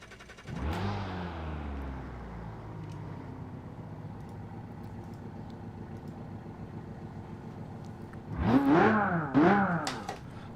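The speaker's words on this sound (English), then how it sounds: "the Rego, and that's the car we are going to hear now" The Rego Falcon Crazy 8 race car, a Falcon-based build, runs on a test track with a sustained engine drone, then a louder burst of revving near the end, with no talk.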